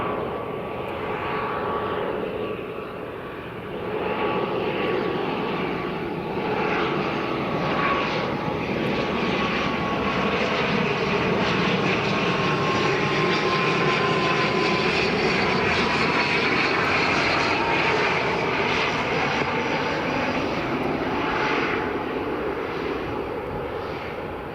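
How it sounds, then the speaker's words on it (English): A WestJet Boeing 787 approaches Edinburgh Airport, its engines producing a sustained broad roar with a drifting high whine, growing steadily louder and fuller as it nears, with no voices. "Oh, WestJet 787's coming along."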